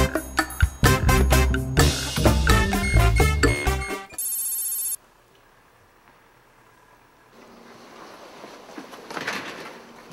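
A phone rings repeatedly while someone keeps calling a woman's number; a loud burst of tonal ringing and chiming fills the first few seconds, then a short buzzing tone, followed by a quiet, hissy line.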